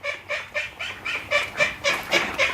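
Ducks call in a steady run of about nine evenly spaced nasal bursts, moderately loud and close, with no speech over them.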